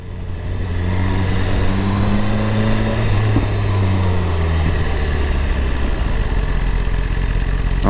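A BMW S1000RR superbike revs hard in first gear, its engine note climbing in pitch and then settling into a steady drone, close and loud throughout.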